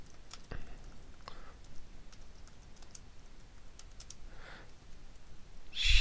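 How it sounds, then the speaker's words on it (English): Typing on a computer keyboard, sparse quiet key taps at an uneven pace over a soft background hiss, with no talk. "But now we have to type it."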